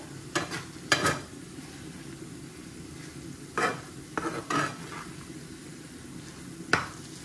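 Okra fried with coriander leaves added, stirred in a pan in a home kitchen, with a steady low sizzle and several scraping stir strokes spaced irregularly, close and moderately loud.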